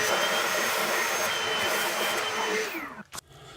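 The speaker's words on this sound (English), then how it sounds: "we'll focus on the crease because the suction part will lose some suction when I'm doing the crease here" A Bissell carpet cleaner's suction nozzle roars steadily as it works over the crease of a towel, loud and close, then cuts off abruptly near the end with a brief sputter.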